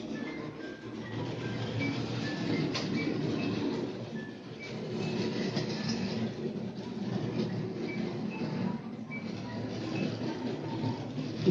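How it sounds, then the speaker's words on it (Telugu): A model train in an automatic track-changing setup rolls along its track toward a loop line, a continuous low rumble and rattle of wheels with faint squeals, fairly quiet and steady without talk. "ఇప్పుడు ఈ ట్రైన్ ఎప్పుడైతే రిలీజ్ చేస్తామో"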